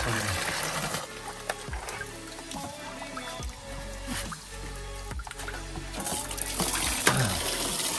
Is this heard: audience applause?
no